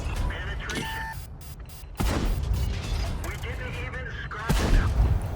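Tank cannon shells fire in a tank video game, several heavy blasts with mechanical clanks between them, under steady game background noise.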